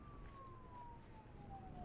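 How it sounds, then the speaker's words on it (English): A police siren wails as one long, slowly falling tone. It sounds faint and distant against a low background rumble, with no talking over it. "At the same time, I heard police sirens outside."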